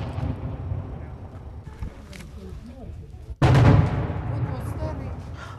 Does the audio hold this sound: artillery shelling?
yes